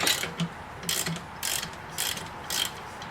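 A ratchet wrench with a 15 mm socket loosening a tensioner pulley bolt on a 2000 Chrysler 300M engine, giving five short, close, rhythmic clicking bursts with brief pauses between strokes.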